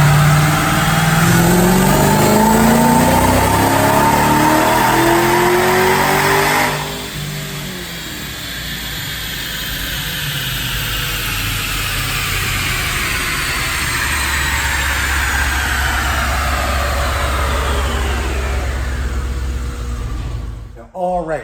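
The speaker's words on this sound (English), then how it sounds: "He's gonna make the dyno pull." A supercharged 2014 Dodge Challenger R/T with a 5.7-litre engine, Whipple supercharger and Kooks headers roars through a wide-open-throttle dyno pull, its pitch climbing loudly with supercharger whine, then dropping and winding down before cutting off.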